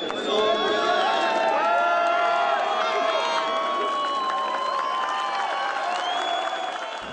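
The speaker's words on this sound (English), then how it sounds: "The crowd cheered the ruler for the victory." A large racecourse crowd at the Dubai World Cup cheers and whoops for the ruler of Dubai after a victory, a loud sustained roar with shouts and clapping mixed in.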